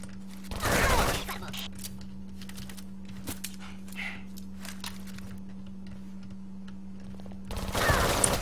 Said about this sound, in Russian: Блин, без прицела вообще не стреляю, как я.